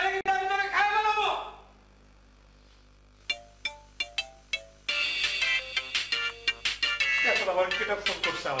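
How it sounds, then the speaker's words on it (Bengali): A mobile phone ringtone plays a short run of bright, evenly spaced electronic tones in a quiet gap between stretches of a person talking. "এখন আবার কেটা ফোন করছে আমার।"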